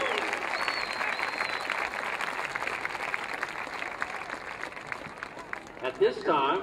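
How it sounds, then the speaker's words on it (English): A crowd applauds the parade of athletes at the Idaho State track and field championships, sustained clapping mixed with cheering voices and an announcer's voice briefly rising near the end. "Let's give them a big round of applause"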